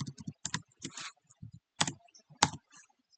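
Computer keyboard typing in short clustered bursts of close, crisp key clicks with brief gaps between strokes, entering a command in a statistics program.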